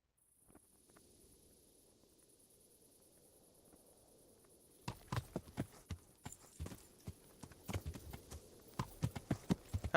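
Horse hooves clip-clop in the Kingdom Come: Deliverance video game, faint at first over a quiet insect-like background, then a steady run of loud, close, rhythmic hoofbeats in the second half.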